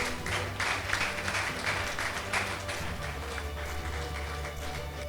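An audience at a luncheon honoring long-serving staff applauds an honoree, and dense, steady clapping from a crowd fills the room for several seconds with a few voices mixed in.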